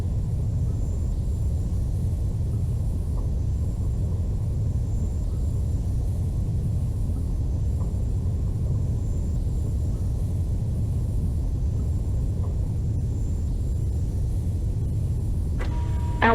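An F-14D jet taking off in the flight simulator Falcon 4 Allied Force: a steady, loud engine roar and rumble holds evenly and unbroken, with no voices over it.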